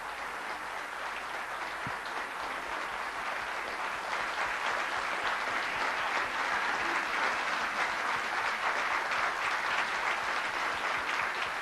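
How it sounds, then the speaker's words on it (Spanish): An audience at a talk applauds warmly to welcome Osvaldo Bayer onto the stage in 1999, steady crowd clapping that swells slightly halfway and continues throughout. "Yo les pido un aplauso muy afectuoso"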